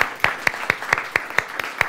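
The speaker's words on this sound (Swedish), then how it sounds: "En stor applåd till Walter." A few people clap at a steady pace, about eight separate claps at even intervals, for a speaker being welcomed up at a Swedish panel event on feminist security policy.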